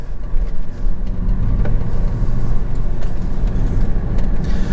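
A Bullitt car cruises slowly through a neighborhood, with a deep rumbling engine and rough low road noise that stay steady and close throughout.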